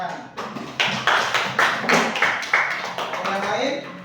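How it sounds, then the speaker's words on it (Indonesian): A classroom group claps in brief rhythmic bursts, a short run of close, fairly loud claps with voices mixed in. "Oke, tepuk tangan"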